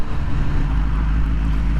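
A Kawasaki Z900RS motorcycle engine heard close up, a deep, loud, steady low rumble with buffeting wind noise over the microphone.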